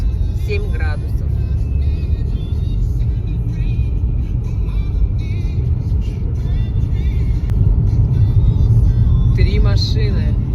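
Cars passing on a snowy winter road at minus seven degrees, a steady close rumble of tyres and engines with whooshes as vehicles go by, under a voice talking over it.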